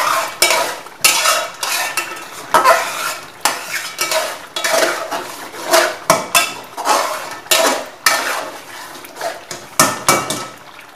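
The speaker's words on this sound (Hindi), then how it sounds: "अच्छे तरीके से मिक्स कर लेंगे।" A spoon scrapes and clatters steadily against a pot as beef karahi is stirred with spices, with a light sizzle underneath and no talking.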